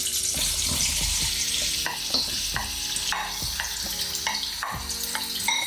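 An onion, garlic, coriander and chili base frying with green curry paste in olive oil in a wok for a vegetable dish, stirred with repeated close scraping strokes over a constant sizzle, no voices.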